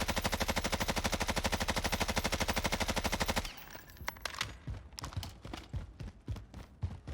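A PKM light machine gun fires in Call of Duty Warzone: a loud, sustained burst of rapid, evenly spaced shots lasting about three and a half seconds, followed by quieter scattered cracks and impacts.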